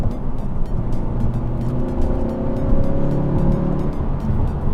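A 2017 Honda Civic Si heard from inside while driving, with a steady, loud engine drone and road rumble whose pitch shifts as gears change, no talking over it.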